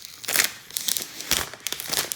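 Plastic packaging crinkles and crunches in short, close bursts as it is handled and pulled off during the unboxing of a Lenovo Smart Display 7, quiet with no talking.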